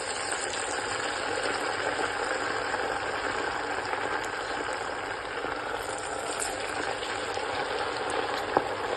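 An evening snack frying in hot oil, a steady continuous sizzle and bubbling hiss at moderate level, unbroken for the whole stretch with no talking.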